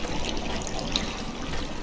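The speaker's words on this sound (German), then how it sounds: "jetzt steigt das Wasser wieder" In a flooding dungeon in the video game Conan Exiles, water rises with a steady soft trickling and pouring wash, faint and continuous with no talk.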